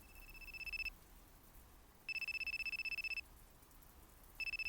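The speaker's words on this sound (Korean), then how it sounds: "그 소리가 전화벨 소리임을 알아채기까지 당분간의 간격이 필요했다." Telephone ringing in a visual novel video game: a bright electronic ring in three bursts, each a rapid warbling trill lasting about a second, separated by short pauses, clear over a quiet background.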